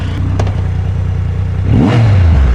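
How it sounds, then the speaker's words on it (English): A Triumph Rocket 3 Storm R motorcycle engine revs up sharply with an angry, rising rumble after a stretch of low idling, close and loud. "Another byproduct of that engine is the angry rumble it makes"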